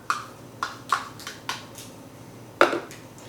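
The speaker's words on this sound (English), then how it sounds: "So now we're just going to toss that on in here into our blender jar." Ingredients for a peanut butter banana milkshake go into a blender jar, giving a series of five or six light knocks and clinks, close and fairly sharp, spaced unevenly over a few seconds.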